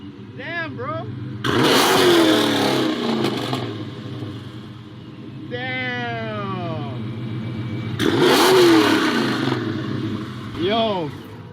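A Dodge Challenger fitted with a ProCharger supercharger lets out two loud, close revving blasts with sweeping engine tones between them, and the engine keeps burbling in the quieter gaps.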